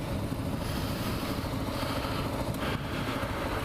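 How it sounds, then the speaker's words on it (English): A Kawasaki KLR650 motorcycle idles on an adventure ride, its single-cylinder engine giving a steady, close, continuous low rumble with no voices. "I'm gonna turn the bike off and leave it in neutral."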